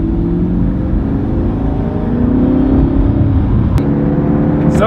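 A Ferrari LaFerrari driving by on a city street, its engine a steady loud drone with a gently rising pitch, a brief sharp click partway through, and no voices.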